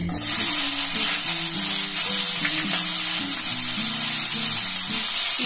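Onions sizzle steadily in hot oil in a pan with dried red chillies for chilli chicken, a dense, continuous hiss close by with faint melodic music running underneath throughout.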